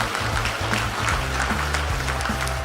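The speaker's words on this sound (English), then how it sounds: "Please let's give him a round of applause." Applause from a conference audience in Lagos, Nigeria, a steady clapping texture over a low tonal hum from the hall's sound system.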